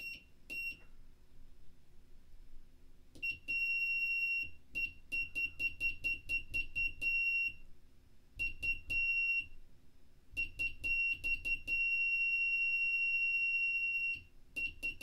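A buzzer on a Raspberry Pi doorbell project gives loud, piercing electronic beeps, some clipped and rapid in irregular bursts, others held as long steady tones, with brief quiet gaps between.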